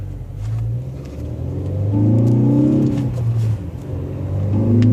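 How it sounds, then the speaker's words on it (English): A 2013 Ford Focus ST pulls out into traffic, its engine revving up steadily through the gears with a loud, close drone and rising pitch, and no talk over it. "Getting ready to pull out into traffic here."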